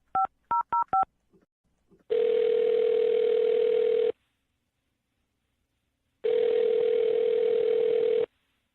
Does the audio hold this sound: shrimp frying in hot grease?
no